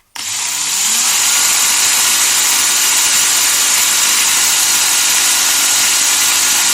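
Electric drill motor starting with a brief rising whine, then running at a steady, loud, high-pitched whir close by, alone with no talk.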